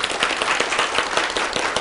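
Audience applauding at a celebration gathering for successful job candidates, a dense steady patter of many hands clapping close by, without any voices.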